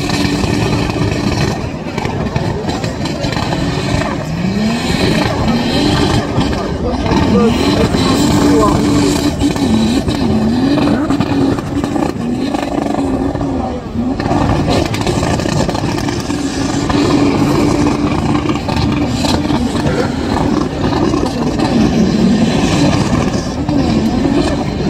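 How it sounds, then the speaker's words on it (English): Loud drift car engines, including Subarus, rev and roar almost nonstop at a drifting event in Qatar, pitches rising and falling as they rev, over a dense, noisy, smoky outdoor background. "These cars are very loud."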